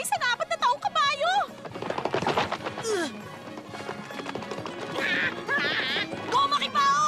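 A cartoon horse whinnies with wavering high calls, then hooves clatter at a running pace while excited shouting and music fill in around them during an anime horse race.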